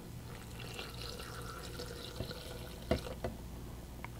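Water is poured into a blender for a smoothie, a soft steady trickle with a few louder splashes and drips toward the end, close but quiet.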